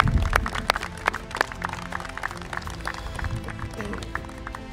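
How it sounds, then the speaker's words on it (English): Audience at a carp fishing awards event gives a round of applause for the helpers, scattered claps of moderate loudness mixed with crowd murmur and talk. "just a round of applause for all of them lot"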